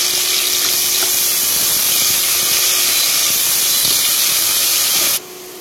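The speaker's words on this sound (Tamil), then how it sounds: "வெங்காயம் வந்து நல்லா ஒரு கோல்டன் ப்ரௌன் கலராக வர அளவுக்கு வதக்கலாம்" Onions frying in oil for a Chettinad chicken biryani, a steady loud hiss and sizzle running without a break and cutting off sharply near the end, with no talking.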